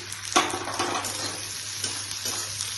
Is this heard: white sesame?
yes